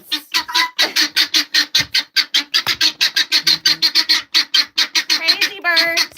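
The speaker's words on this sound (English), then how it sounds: "Crazy birds." Birds in an enclosure squawk loudly and relentlessly, a rapid, rhythmic stream of harsh calls close by that grows more frantic toward the end.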